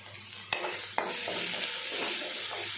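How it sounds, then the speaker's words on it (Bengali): Taro frying with cumin and coriander powder gives a steady sizzle, with two sharp knocks of a spoon against the pan near the start, close up and without voices. "জিরে ধনে গুঁড়োটা দিয়ে একটু ভাজা ভাজা করে নেব"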